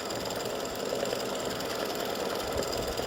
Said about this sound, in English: it's doing the satin stitching around the bottom part of the body